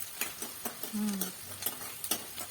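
Onions fry in sizzling oil while a utensil stirs and scrapes through the pan in repeated strokes, close up, with no voices.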